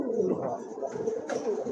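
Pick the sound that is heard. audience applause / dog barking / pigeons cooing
pigeons cooing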